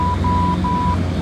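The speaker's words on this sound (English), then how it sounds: "The radio just came alive. This should start beeping." A radio navigation beacon in Microsoft Flight Simulator X beeps in long, evenly spaced tones, with short gaps between them, over a steady low cockpit engine drone.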